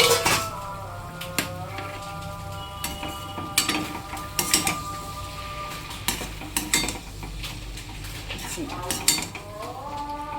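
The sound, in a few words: opening the lid of a cooking pot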